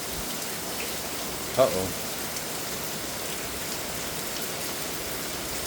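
Heavy rain pours steadily at night in Chandler, Arizona, a dense, even hiss throughout, with one brief spoken exclamation.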